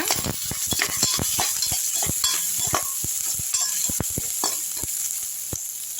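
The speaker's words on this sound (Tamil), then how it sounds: "ரெண்டு பச்சை மிளகா போட்டுக்கலாம் இதுலேயே அதையும் சேர்த்து வதக்கிடுங்க" Green chillies and onions sauté in a pan, giving a constant close sizzle broken by frequent sharp clicks and scrapes of a spatula stirring. No one speaks.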